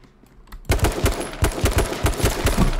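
Rapid bursts of gunfire in the H1Z1 battle royale game, a close, loud string of sharp shots in quick rhythm after a quiet start.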